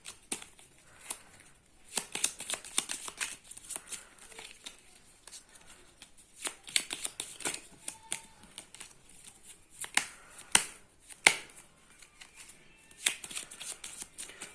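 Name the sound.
shuffling playing cards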